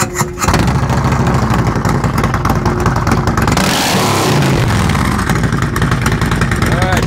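A Harley-Davidson Street Glide with loud exhaust pipes fitted with zombie baffles revs hard and close, a thick, loud, rumbling roar that holds and swells for the whole stretch, with voices speaking underneath.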